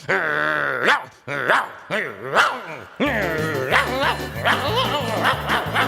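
A dog barks repeatedly in short rhythmic bursts, close and loud, partly mixed with voice-like yelps and a background musical beat.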